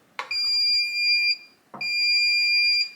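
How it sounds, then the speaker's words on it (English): A FieldTech Systems TrapLink Wave six-channel remote control gives loud, sustained electronic beeps. Each tone starts with a click, and two long beeps sound in a row, close and alone. "get a long beep from the remote control to say that it's now in programming mode"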